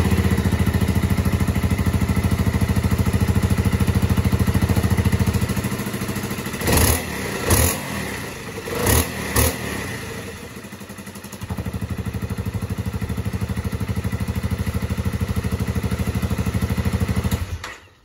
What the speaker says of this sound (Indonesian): Suara knalpot kurang enak, suara knalpotnya agak cempreng gitu suara knalpotnya.